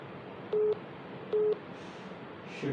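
Busy tone from a declined phone call: two clear evenly spaced beeps followed by the start of a third, steady and electronic over low background noise.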